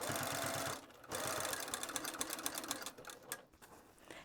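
Sewing machine stitching a fabric pouch seam at a narrow allowance, rapid mechanical needle chatter in bursts with brief pauses between runs, close and clear.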